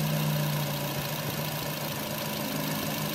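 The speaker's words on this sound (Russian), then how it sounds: "Работа двигателя на холостом ходу." A 2006 Nissan Note's 1.6-litre HR16DE petrol engine idles steadily with an even low hum and no voices, holding a constant level throughout.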